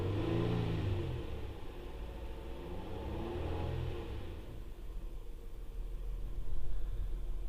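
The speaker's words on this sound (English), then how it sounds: "it's running pretty smooth right now" A flood-damaged, previously totaled car's engine idles steadily and smoothly, a continuous mid-pitched rumble with a slight swell near the end, heard close up and alone.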